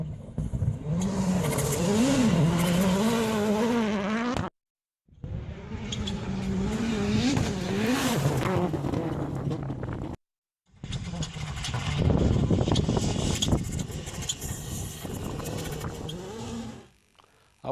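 A Citroën WRC rally car engine roars on a gravel test, loud and close, with the revs rising and falling in three long passes split by brief gaps.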